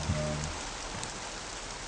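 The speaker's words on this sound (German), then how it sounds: "Ein sanfter, stiller Strichregen." Gentle, steady rain in a garden in May makes a dense, even hiss that holds at one level throughout, close and with no talk.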